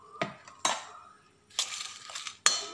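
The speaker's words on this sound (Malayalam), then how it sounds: "നല്ലപോലെ ഇളക്കിയിട്ട് ഒന്ന് കുറച്ച് നേരം വയ്ക്കാം" A spoon scrapes and clinks against a large metal vessel while raw mango pickle with chilli powder and mustard powder is stirred, four separate knocks and scrapes spaced over a few seconds, close and fairly quiet, with no talking.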